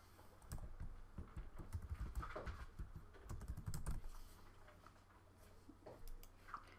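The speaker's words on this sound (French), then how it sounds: "je vais ici et je tape son nom" Fingers typing a company name on a computer keyboard, a quick run of close, crisp key clicks in uneven bursts, thinning out toward the end with a few scattered taps.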